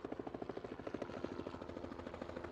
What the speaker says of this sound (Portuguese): Este é o helicóptero que leva e traz passageiros das Ilhas Scilly para o continente britânico